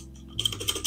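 Typing on an Armaggeddon MKA-7C mechanical keyboard with blue switches: a quick run of close, crisp clicky keystrokes starting partway in, after a short quiet moment.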